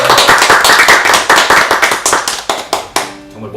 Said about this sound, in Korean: 박수로 한번 반갑습니다.